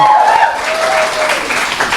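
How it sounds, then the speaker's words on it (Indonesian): A church congregation at a sermon claps hands loudly and continuously in a full, crowded wash, with a voice speaking over the start. "Tepuk tangan, patahkan."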